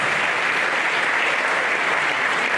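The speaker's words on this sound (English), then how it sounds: "we had request to get a louder applause" Dense, steady audience applause at an economic development lecture, loud and continuous with no gaps, many hands clapping at once.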